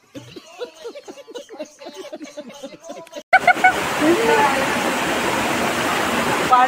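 People talk and laugh over quiet surroundings, then the roar of the Tamhini Ghat waterfall cuts in abruptly, a loud, close, continuous rush of falling water that fills the rest.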